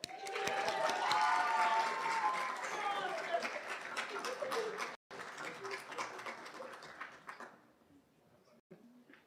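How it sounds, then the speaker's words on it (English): An audience claps at a physical therapy hooding and pinning ceremony: dense, sustained applause that starts strong, gradually thins out and fades toward the end, with crowd noise mixed in. "We're allowed to clap."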